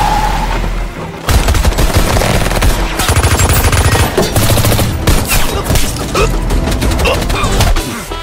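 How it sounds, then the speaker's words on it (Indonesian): Loud, rapid bursts of automatic gunfire with heavy booms, sustained and dense, mixed with a dramatic film score. "sehingga terjadi aksi tembak-tembakan hebat"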